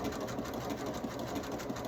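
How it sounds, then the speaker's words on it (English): A home sewing machine stitching a quilt runs steadily at moderate speed, its rapid needle clatter and motor hum continuous and close, with no talking over it. "I'm going to speed up just a little bit because I feel like my machine's doing okay."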